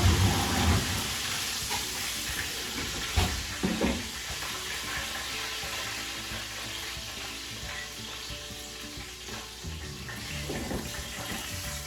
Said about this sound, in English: we're gonna take this oxtail. It's sizzling away.